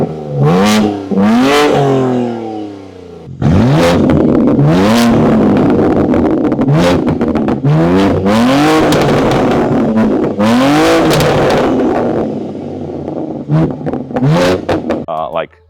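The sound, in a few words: sports car engine revving with upgraded exhaust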